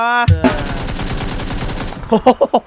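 Gunfire in PUBG rattles as one fast, dense automatic burst, loud and close, then gives way to a few separate heavy shots. A voice is heard briefly at the start.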